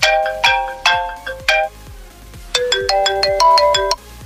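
A phone speaker plays an iPhone ringtone: three louder plucked chime notes, a brief pause, then a faster run of bright, bell-like tones rising in a clear melodic pattern, loud and close with no voices.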